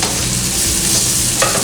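Eggs cooking sunny side up alongside bacon and tomatoes in a hot pan, a steady close broadband sizzle running without a break, with a brief scrape or stir near the end.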